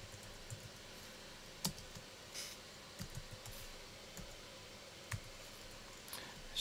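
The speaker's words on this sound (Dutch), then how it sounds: "Dus hier zouden we zijn naam kunnen gaan typen." Someone types a name on a computer keyboard while editing titles in video software: faint, scattered clicks and taps in irregular bursts over a quiet room hum.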